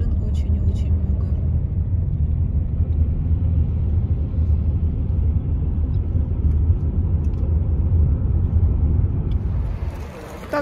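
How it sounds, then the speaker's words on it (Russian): Cars idle and creep in a long queue at a petrol station on a congested road, a steady low engine rumble close by that fades near the end, with voices talking over it. "Заправка, очередь на заправку."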